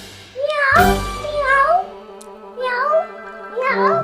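A voice imitates a cat, making several drawn-out meows in a row, each rising and falling, close and clear.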